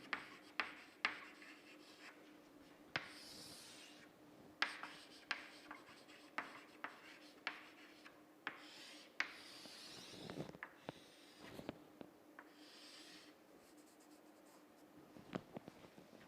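Chalk or marker scratches across a board as a surveying table is written out in a classroom, with short irregular strokes and taps, close and clear, and no talking.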